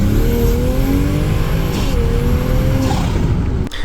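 A Toyota Supra with upgraded intake on a test drive, its engine droning and revving through gear changes from inside the car, a steady loud roar with no voices.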